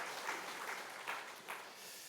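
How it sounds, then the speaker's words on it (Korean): A church congregation claps during a Sunday morning service, a dense, fairly quiet wash of applause with a few louder swells, steady throughout with no voices. "하나님께 영광의 박수 올려주시기 바랍니다."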